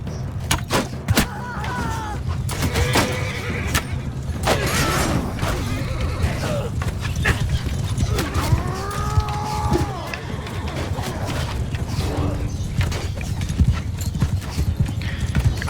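Horses' hooves clop steadily amid a busy Mount and Blade II: Bannerlord battle soundscape, with occasional whinnies and a continuous low rumble underneath.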